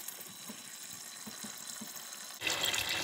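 Water pours into a pot of dry black beans for an Instant Pot, a soft steady trickle at first that swells abruptly into a louder, brighter gush near the end, with no voices.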